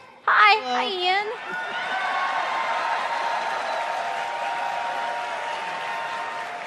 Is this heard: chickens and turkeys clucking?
no